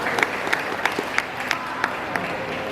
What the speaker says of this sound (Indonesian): Tepuk tangan buat PDI Perjuangan.